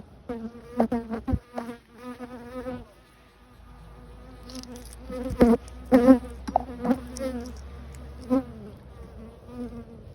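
Buzzing of bees drifts in and out, with sharp close passes and a low hum beneath, swelling and fading over several seconds.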